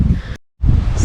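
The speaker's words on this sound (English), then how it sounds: "It's kind of windy up here" Strong gusting wind buffets the microphone high on a mountain trail in Seoraksan National Park, a loud, steady roar that drops out briefly, then returns just as strongly.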